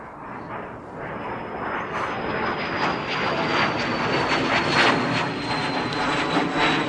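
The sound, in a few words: jet aircraft sound effect in show intro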